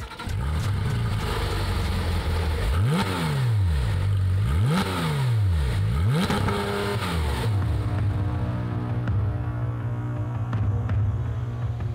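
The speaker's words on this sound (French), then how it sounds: "L'arrière de la voiture renferme un moteur 4 litres de 6 cylindres qui peut aller jusqu'à 8800 tours" Porsche 911 GT3 RS with a rear-mounted 4-litre six-cylinder engine that revs to 8800 rpm, blipped hard three times in quick succession, pitch sweeping up and down, then settling into a loud steady drone.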